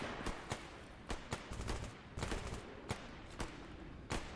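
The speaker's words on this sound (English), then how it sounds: "I hear gunfire all around," Faint scattered gunshots pop irregularly from a distance in S.T.A.L.K.E.R. GAMMA, a dozen or so sharp cracks spread out over a few seconds against a quiet background.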